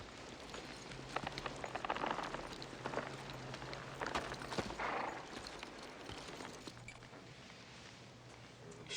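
Horses walk along a trail with a faint, steady clip-clop of hooves, heard at a distance under a soft background wash.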